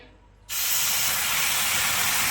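A sudden loud burst of hissing steam as vinegar hits a hot iron griddle, starting abruptly after a brief quiet moment and holding steady and close.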